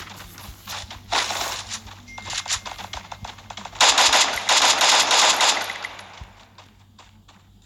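Gunfire from a multi-barrel gun, heard as loud rapid bursts of crackling shots that swell twice and then trail off, with a rattling, clattering texture throughout.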